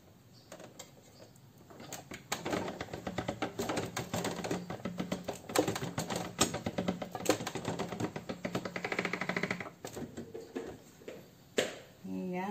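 Dough fed repeatedly through a hand-cranked noodle roller for chicken mushroom noodles, giving a steady rapid mechanical clatter and rhythmic cranking close by for about ten seconds.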